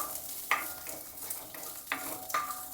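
Ingredients for a spicy raw tomato chutney roast in a very hot pan on low flame, a soft steady sizzle broken by a few close scrapes of a spoon stirring, with no one talking.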